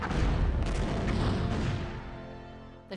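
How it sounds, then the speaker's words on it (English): A starship explodes in the Star Trek Bridge Commander game, a loud, dense rumbling blast that fills the whole stretch and slowly fades toward the end. "The ship has been destroyed."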